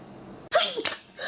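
A single human sneeze, sharp and close, with a sudden burst followed by a brief trailing second puff, loud against a quiet background.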